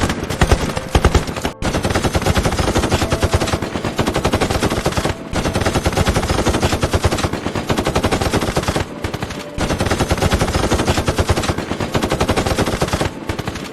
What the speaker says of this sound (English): The German machine gun fire continued relentlessly.